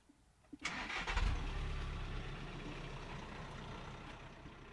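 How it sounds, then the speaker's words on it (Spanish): A Volkswagen Crafter ambulance engine cranks briefly and catches, then settles into a steady, close, rumbling idle with no voices. "cómo suena el motor de esta ambulancia cuya marca es Volkswagen y es Crafter"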